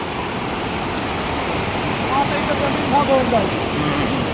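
A village waterfall in the Konkan, its stream swollen after rain, roars as a loud, steady wash of rushing water, with faint voices briefly audible beneath it.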